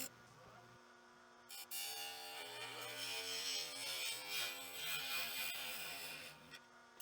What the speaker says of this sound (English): And then after that I hollow out the inside of the box.